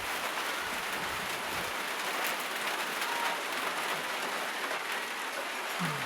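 Rain falls steadily in Agusan as a dense, even hiss of drops on surfaces, continuous and moderately loud with no talk.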